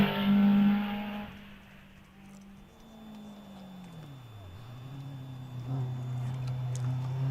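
A hillclimb race car with a Rover K-Series 1600cc engine at Loton Park, its engine note rising, dipping and climbing again through the gears at a distance, while a commentator talks over it.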